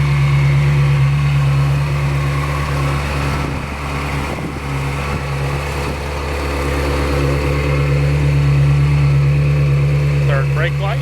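A 2002 Ferrari 360 Spider idles with a steady, low, even drone close by. Someone talks over it the whole time.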